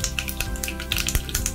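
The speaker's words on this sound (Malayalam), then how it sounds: "നമുക്കിനി കടുകിട്ട് കൊടുക്കാം" Mustard seeds popping in a tablespoon of hot coconut oil while tempering for a mango pulissery curry, with scattered sharp crackles and pops over a steady low sizzle.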